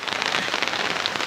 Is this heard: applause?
no